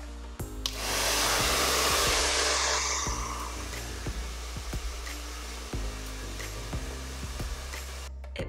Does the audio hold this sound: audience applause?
no